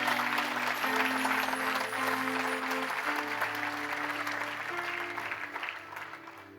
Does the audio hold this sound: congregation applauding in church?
yes